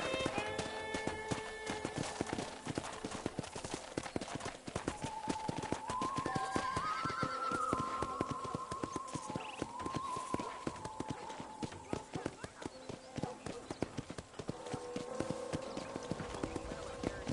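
Steady clip-clop of horse hooves trotting, loud and continuous, with a horse whinnying partway through over game music and occasional talk, in Red Dead Redemption.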